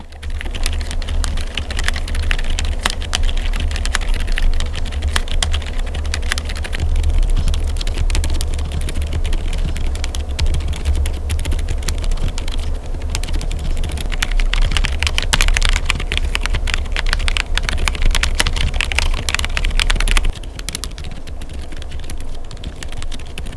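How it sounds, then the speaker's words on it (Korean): Rapid, continuous clacking of a Hansung TFG Cloud CF full-size mechanical keyboard typed up close, dense and loud, easing slightly near the end. "최대한 키보드 타건감까지 함께 느낄 수 있도록 들려드리겠습니다"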